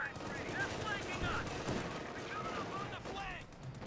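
Sustained machine gun and auto-cannon fire in a Company of Heroes 2 battle between a rifle squad and armored cars, dense overlapping bursts of rapid shots with explosions, steady and loud throughout.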